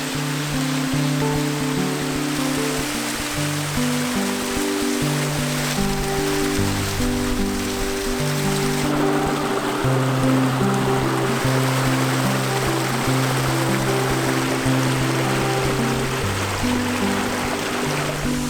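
Steady broadband roar of a waterfall cascading along Nant Bwrefwr in the Brecon Beacons, continuous and close, with dense white-noise rush, low tonal rumbles and no voices.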